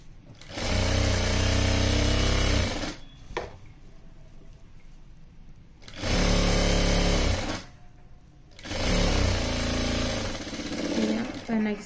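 A sewing machine stitching lehenga fabric runs in three loud, sustained bursts of rapid mechanical whirring, separated by quieter pauses in which a voice speaks.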